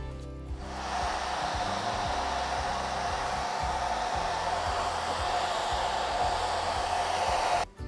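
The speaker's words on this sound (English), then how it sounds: "I'm just going to go to the hairdryer" A hair dryer drying a watercolor cactus painting switches on and blows with a steady, close, even whoosh for several seconds, then cuts off.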